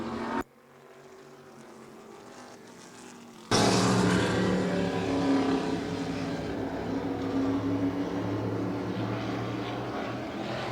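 Race cars in a Sportsman division feature, including a Ford Pinto, roar together on an oval track near the finish, a steady loud engine drone that surges sharply after a brief quieter stretch.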